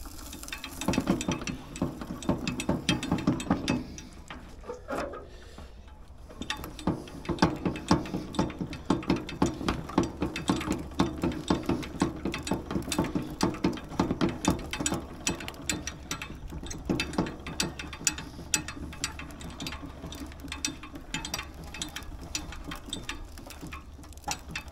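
A manual sugarcane press crushes a long sugarcane stalk for juice, giving a steady grinding, clicking mechanical churn of gears and rollers with a ratchet-like rhythm, loud and close, running continuously with a brief dip near the start.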